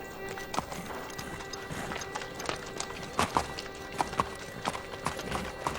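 A racehorse's hooves clip-clop in a steady walking rhythm on a hard surface, moderately close, with a dense background wash of ambient noise.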